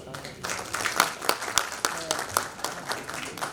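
Applause from an investor summit audience in Bareilly, a brief burst of scattered clapping at moderate distance with a voice speaking over it.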